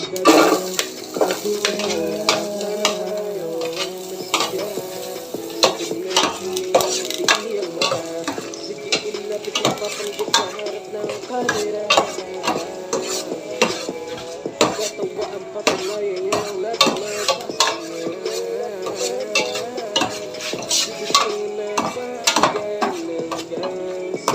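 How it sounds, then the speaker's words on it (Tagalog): Onion sautéing in hot oil in a pan for chicken feet curry, with a utensil clinking and scraping against the metal in a steady, busy rhythm throughout, close and moderately loud. "nagpainit na tayo ng mantika ngayon mga kasandok. Igisa natin itong sibuyas."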